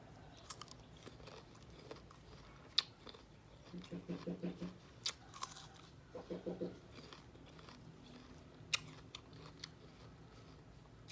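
Fruit being bitten and chewed, small crisp crunches that come in two short rhythmic bursts over faint background noise, with scattered clicks and a quiet voice now and then.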